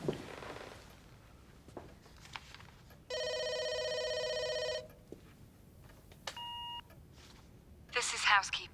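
A telephone number being dialed: a long, sustained tone followed by a brief keypad beep, set between short bursts of voices.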